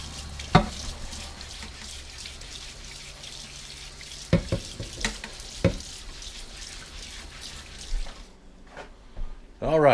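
A cast iron skillet caked with baked-on grease is scrubbed with a scrubbing pad under running water, with a steady rush of water broken by several sharp scraping strokes, while a person talks.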